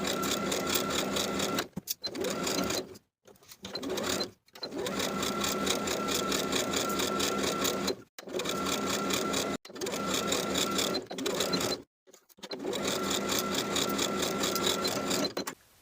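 A sewing machine stitches along the finished edges of a dress flounce, running in long steady bursts with short pauses between runs, loud and close with no talking.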